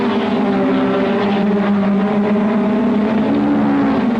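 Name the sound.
V6 Ferrari racing car driven past by John Surtees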